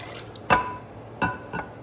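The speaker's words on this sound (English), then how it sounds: "I'm actually gonna pour this into my larger measuring cup" Blackberry juice pouring into a large measuring cup in short bursts, three brief liquid splashes and trickles standing out clearly against a quiet kitchen background.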